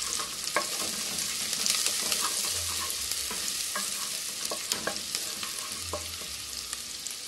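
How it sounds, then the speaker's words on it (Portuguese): Chayote, carrot and jurubeba sautéing in a pan for rice, with a steady close sizzle and regular stirring scrapes and taps throughout and no voices. "Aqui não precisa ficar refogando muito. Só deixar refogar um pouco."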